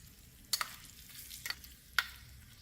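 Soft steady sizzle of a spice tempering in hot oil, with curry leaves, fenugreek seeds and dried red chilli pieces, punctuated by three sharp crackling pops spaced about a second apart.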